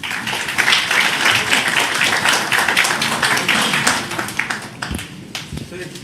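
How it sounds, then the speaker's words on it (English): Dense applause fills a hall at a government signing event with Google in Andhra Pradesh, strong and continuous for about four seconds before tapering into scattered claps. "Let's give a big applause to this forum."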